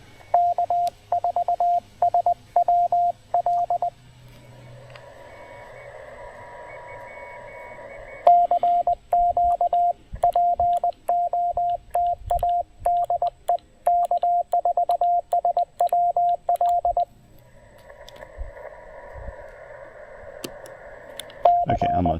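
Morse code keyed on a QRP 20 meter radio during an outdoor park activation at Table Rock: a steady beeping sidetone in rhythmic dits and dahs, broken by stretches of hissy receiver noise and distant incoming signals.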